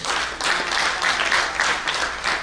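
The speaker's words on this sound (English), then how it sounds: "please give yourself a big round of applause" Convention audience at a club's biennial gathering breaks into sustained applause, a dense wash of many hands clapping steadily for a couple of seconds, fairly close and unaccompanied by speech.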